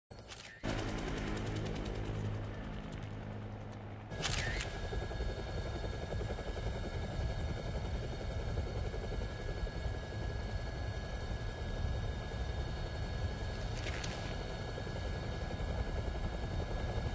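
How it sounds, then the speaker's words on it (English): A helicopter in the video game Dead Rising makes a loud, continuous rotor and engine drone that fills the whole stretch, with a short burst of rapid mechanical rattling at the start. "Looks like taking a helicopter was the way to go."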